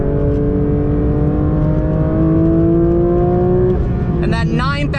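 A 2023 Porsche 911 GT3 RS engine revs hard toward its 9,000 RPM redline, pitch climbing steadily over several seconds, then a gear change with a fresh harmonic sweep near the end, loud and close.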